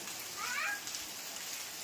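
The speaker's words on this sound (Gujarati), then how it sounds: "ખૂબ વરસાદ આવી રહ્યો છે" Steady, fairly soft hiss of heavy rain pouring down under dark clouds, continuous with no voices.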